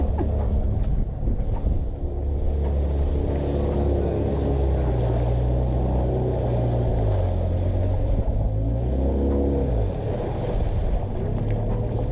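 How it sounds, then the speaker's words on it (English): A dinghy's outboard motor runs steadily on the water off the Florida Keys, a loud, continuous droning rumble with shifting pitch that stays close throughout. "Riding up in the dinghy."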